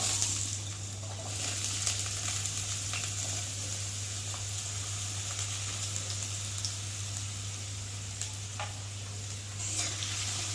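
Diced potatoes and carrots fry in a hot kadai, giving a steady, even sizzle that runs without a break, with a low constant hum underneath and a few faint clinks.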